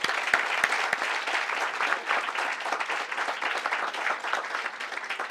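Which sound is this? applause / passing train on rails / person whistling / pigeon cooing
applause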